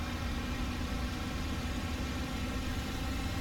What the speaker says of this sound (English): if we go the other way to increase the full fine, the RPM rapidly increases